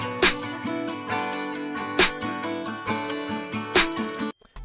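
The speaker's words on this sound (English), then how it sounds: "We got a another snare that layers with the previous snare" A layered snare and clap smack together on the backbeat of a loud country rap beat, cracking sharply over thick kick and melodic layers before a short cutoff.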